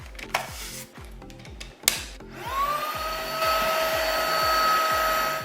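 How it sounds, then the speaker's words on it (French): A vacuum cleaner with a cleaning attachment sucks dirt off a filter: a few knocks and clatters, then the motor spins up into a loud steady whine with a rising pitch that holds to the end. "Tu le mets là-dedans, tu branches ton aspirateur. Ça vient comme tout aspirer la marde que vous voyez en ce moment sur le filtre."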